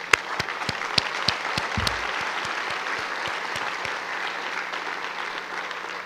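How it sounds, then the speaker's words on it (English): Audience applause at the Tijuana Innovadora 2010 conference, a dense, steady clapping that rises with a few sharp near claps and holds evenly throughout. "Let's stop and give ourselves a round of applause for that."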